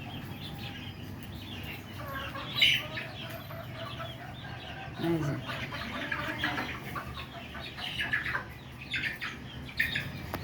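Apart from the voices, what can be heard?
layer chickens clucking in cages on a farm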